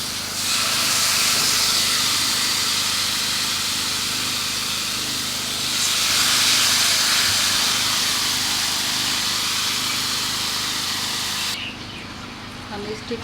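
Beef steak on a heated grill pan over a stove, giving a loud, continuous broad hiss that swells midway and then drops away abruptly near the end.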